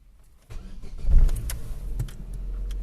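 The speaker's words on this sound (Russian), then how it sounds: "давайте заведем, запустим двигатель." A car engine cranks and catches after a generator repair, a low rumble rising into a steady idle with a few mechanical clicks, close by and without speech.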